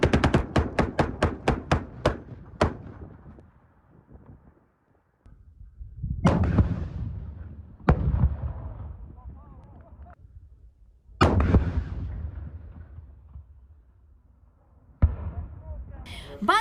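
During military reserve exercises, a heavy machine gun fires a rapid burst of loud shots, followed by several single booming blasts from a handheld anti-tank grenade launcher, each ringing out with a long echoing decay outdoors.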